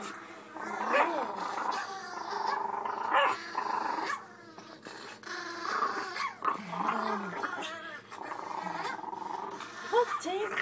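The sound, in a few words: dog growling and barking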